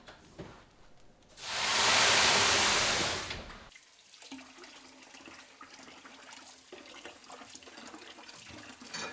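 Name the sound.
shot of water into hot oven for steam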